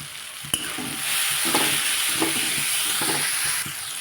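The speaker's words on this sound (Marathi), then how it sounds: "टोमॅटोला मी पाच दहा मिनटं शिजू देते आपले कांदे टोमॅटो लवकर शि शिजण्यासाठी थोडंसं मीठ घालून घेते" Onions and tomatoes with a little salt cook in a pan, a steady broadband sizzle running throughout with a few stirring scrapes and clicks at intervals; close and fairly loud, no voices.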